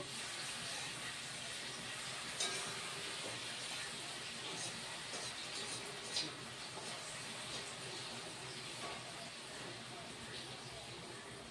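Marinated fish fries in a pan with a steady, loud sizzling hiss that holds evenly throughout, with a couple of faint clicks.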